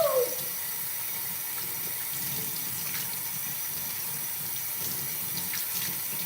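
Cold tap water runs steadily over hair during a quick weave wig fix, a continuous close splashing hiss with no talk over it.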